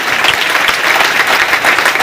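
An audience at a community meeting in Basti breaks into loud, dense applause, a continuous close roar of many clapping hands with no speech over it.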